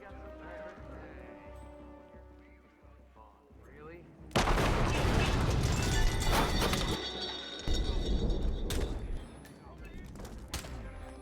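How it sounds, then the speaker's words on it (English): In the Hitman video game, a sudden loud explosion cuts through quieter background music, followed by dense bursts of gunfire and crashing impacts as Agent 47 fights his way out. "made Agent 47 do his best Terminator impression as he mows his way out of the area using an explosion and the subsequent panic as cover"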